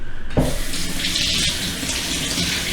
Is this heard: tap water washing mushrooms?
yes